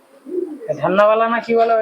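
A male Giribaz pigeon gives a short, close coo, a soft rising murmur that swells into a fuller throaty call lasting under two seconds.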